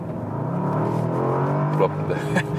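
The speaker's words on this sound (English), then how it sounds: "We go back to the sport mode, and here another acceleration from 50 to 80." A Bentley Continental GT V8 in sport mode accelerating from 50 to 80, its engine note climbing steadily in a smooth rising drone from inside the cabin, with someone talking over it.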